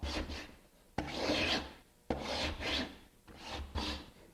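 A slightly dull hand blade is pushed firmly along a glued-up wooden panel, giving four close, raspy scraping strokes, each starting sharply and fading, with short pauses between them.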